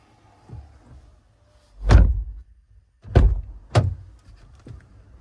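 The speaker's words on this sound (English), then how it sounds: "Be fun to see if the door closes there as well, wouldn't it?" A new car's door is shut several times to test whether it closes properly, giving three solid, close thunks with short pauses between them and a softer knock at the end, with no talk.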